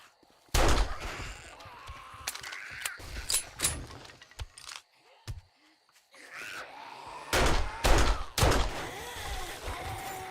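Sharp, loud gunshots crack in the 7 Days to Die video game, coming in clusters of single shots with brief gaps and quieter game noise between them.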